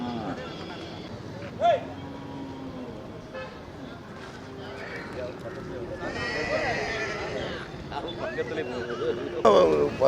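Native Tamil Nadu country horses at the Thiruvannamalai horse market during the Deepam festival, with a couple of loud neighs and whinnies rising over steady crowd chatter, nearby talking and a passing vehicle horn.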